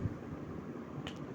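A single sharp finger snap, close and brief, near the end of a quiet stretch with no talking.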